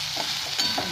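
Food for chowmein fries in a hot pan while being stirred: a dense, steady sizzle with soft scraping strokes, close and fairly loud, and no talk.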